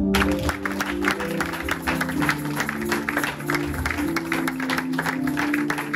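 A congregation claps during a Pentecost worship service, steady sustained applause mixed with music and voices in a reverberant church.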